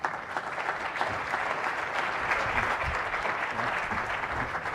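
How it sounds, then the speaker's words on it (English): Audience at an Africa innovation forum panel in Marrakech applauds as panelists walk on stage, a steady, full round of clapping from a large hall, even in loudness throughout. "Please come on stage under the applause of the audience"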